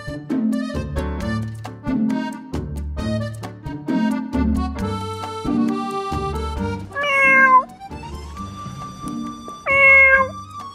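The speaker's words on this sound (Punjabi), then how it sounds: "ਬਿੱਲੀ ਨਹੀਂ ਬੋਲਦਾ ਬਿੱਲਾ ਆਇਆ" A tomcat meows a few times, with drawn-out wavering calls rising loudly above steady tonal background sound, and no talking.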